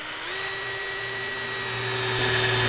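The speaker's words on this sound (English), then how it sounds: "just drilling our pilot holes to begin with" A power drill whines up to speed and holds a steady, rising pitch as it bores pilot holes in the side of a Ford Transit van for a bonded side window fitting, loud and close with no talking.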